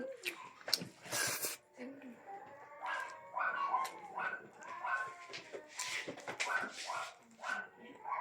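Several dogs bark and yip in irregular bursts, fairly close, mixed with people chatting nearby.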